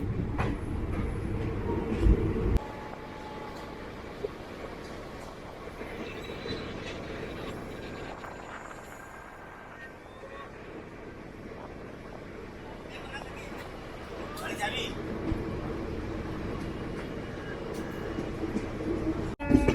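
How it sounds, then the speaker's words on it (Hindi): The Lucknow Barauni Express rolls out of Aishbagh toward Lucknow City, heard from inside with a steady rumble and rattling wheels on the rails. A person speaks over the running train. "ऐशबाग से निकलने के बाद अब ट्रेन जा रही है लखनऊ सिटी की तरफ।"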